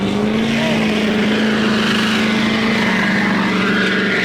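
A loud, steady Duramax diesel truck engine drone with a continuous rushing exhaust whoosh from the downpipe and manifold and a sustained low hum, holding constant throughout with no talking.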